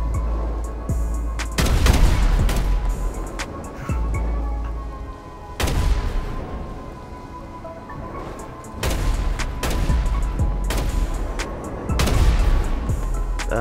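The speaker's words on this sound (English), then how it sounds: "Let's try to see if we can shoot him once." Gunfire in GTA 5 Online comes as several loud, sharp booming shots in separate bursts spaced a few seconds apart over a faint steady tonal background hum.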